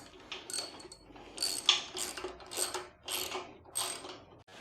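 Bolts being tightened on a Harbor Freight Haul Master 5x10 utility trailer during assembly, a ratchet clicking in short repeated bursts with metallic pawl rattles, close and fairly quiet, no talk.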